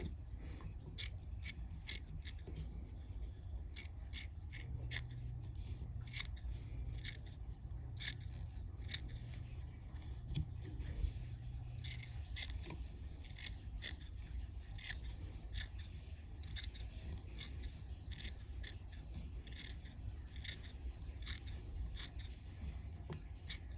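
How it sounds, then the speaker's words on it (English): Curved scissors snip repeatedly at fly-tying material such as rabbit fur, giving a steady run of crisp close-up clicks over a low background hum, with no talk. "I like to use curved scissors."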